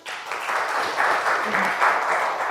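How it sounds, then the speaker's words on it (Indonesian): A group applauds during a university lecture session, a steady wash of clapping with slight swells, with a voice faintly underneath. "tepuk tangan buat kita semua"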